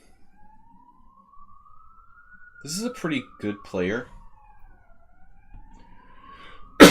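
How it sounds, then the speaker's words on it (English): An ambulance siren outside a window holds a steady, moderately loud rising and falling wail while someone speaks briefly over it. "Enjoy the ambulance sounds."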